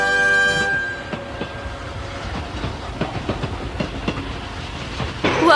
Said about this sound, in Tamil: ஷிஷிமாருவின் ட்ரெயின் அட்டகாசங்கள்.